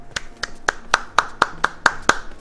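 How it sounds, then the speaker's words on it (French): Hand clapping applause for Crystal Dynamics, heard as eight crisp, evenly spaced claps in a steady rhythm, close and fairly loud, with no voices. "applaudissements"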